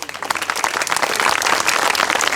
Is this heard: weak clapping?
yes